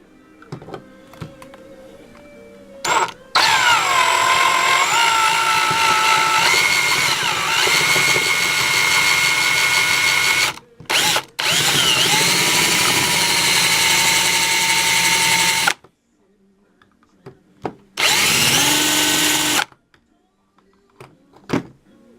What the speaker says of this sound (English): try to drill it out a little more